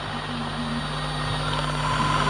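Mi-24 military helicopters fly past as a steady, loud, broadband rotor-and-turbine roar with a constant droning hum, continuous throughout with no voices.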